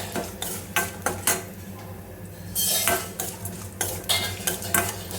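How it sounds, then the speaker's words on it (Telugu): Cashew pieces frying in a pan, with repeated scraping and clinking of a metal spoon stirring them and a soft sizzle underneath, close and fairly quiet. "ఇలా ఫ్రై చేసుకోవాలి. కొద్ది కలర్ చేంజ్ అయ్యేంత వరకు ఫ్రై చేసుకోవాలి."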